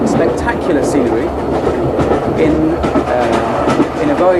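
The Royal Scotsman luxury train rolls through the Scottish Highlands glens and mountains, a loud steady rumble with rhythmic clickety-clack of wheels over rail joints, while a voice talks throughout.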